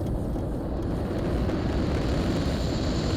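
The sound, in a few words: helicopter flying in a video game helicopter mod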